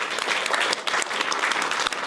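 Studio audience at a French political debate show applauds the cartoonist, dense, even clapping filling the room for a couple of seconds.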